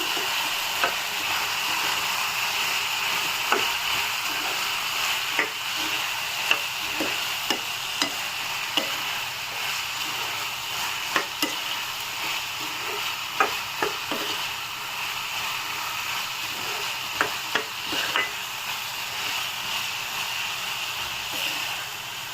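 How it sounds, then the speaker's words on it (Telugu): Aloo, carrot and capsicum masala curry with salt and ginger garlic paste being stirred in a frying pan, giving a steady hiss and sizzle with intermittent soft spoon scrapes, close up and without talking. "సరిపడనంత ఉప్పు వేసుకొని ఒకసారి మిక్స్ చేద్దాము"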